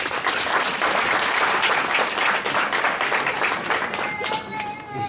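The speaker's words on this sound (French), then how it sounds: "Acclamez fort pour le type." An audience at the presentation of a new Togolese political party breaks into loud, sustained applause, a dense wall of clapping from a large crowd that thins slightly toward the end.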